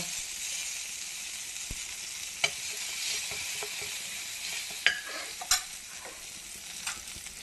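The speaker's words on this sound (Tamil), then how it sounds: "இஞ்சி பூண்டு மிளகு சீரகம் தட்டி வச்சுட்டு போட்டுக்கோங்க. நல்லா வதக்கிக்கோங்க." Crushed ginger, garlic, black pepper and cumin sautéing in a pan for beetroot poriyal, a steady soft sizzle with occasional scrapes and clinks of a stirring spoon, close and without talk.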